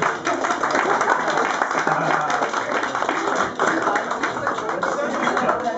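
Applause for the singer at a concert, a dense, steady patter of many hands clapping at an even loudness, with crowd voices mixed in.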